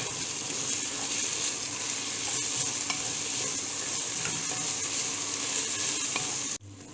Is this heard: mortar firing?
no